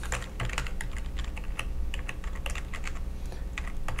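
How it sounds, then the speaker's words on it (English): Someone types a web address on a computer keyboard: a steady, dense run of quick key clicks and taps, close and continuous for several seconds with no pauses and no talking. "this time we're going to type in"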